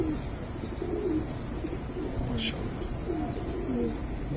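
Giribaz pigeons at a pigeon sale coo in repeated low throaty phrases, close by, with a brief sharp chirp in the middle and background murmur of people.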